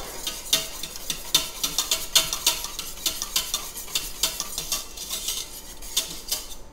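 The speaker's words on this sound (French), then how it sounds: "Donc c'est comme ça que moi je dois fouetter." Wheat semolina is whisked briskly in water for fufu, quick rapid scraping and clinking strokes of a utensil against a pot in a fast irregular rhythm, close and steady for several seconds with no voices.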